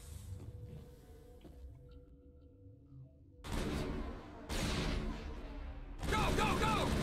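Enemy gunfire in the Mass Effect video game: a quiet stretch gives way to loud, dense bursts of shooting in three heavy waves, each sustained for about a second or more.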